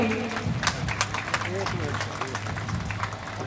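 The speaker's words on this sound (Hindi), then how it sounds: "जोरदार ताली बजाएंगे हमारे सर के लिए।" A school annual day audience claps loudly, a dense patter of applause running steadily beneath a voice speaking over a microphone.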